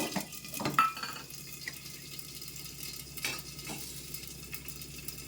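Mustard seeds and curry leaves spluttering in hot oil under a lid while tempering for green chilli and onion rasam, with a steady crackling sizzle, a few sharper pops and utensil clinks nearby.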